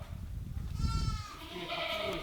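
Black goats on a goat farm bleating, one wavering, drawn-out cry rising over low barn noise, close and clear.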